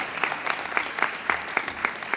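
Audience at a University of Maryland student leadership awards program clapping in a brisk, even rhythm, individual claps spaced evenly and moderately loud, with no talk over them.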